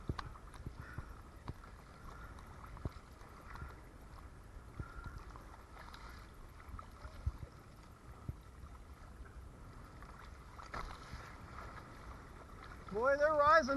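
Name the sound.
boats moving through ocean waves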